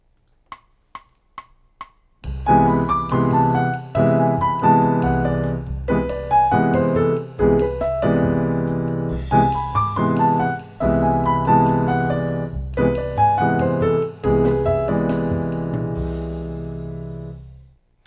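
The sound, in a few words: jazz piano improv lick with alternating triad pairs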